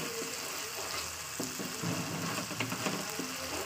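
Fish masala sautés in a pan over a high gas flame, giving a steady close sizzle and crackle with light stirring scrapes throughout and no talking.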